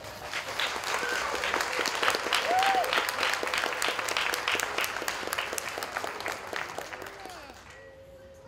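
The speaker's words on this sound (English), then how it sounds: "Please could I ask for the biggest round of applause for our parents." A crowd breaks into sustained, enthusiastic applause that gradually fades out after several seconds.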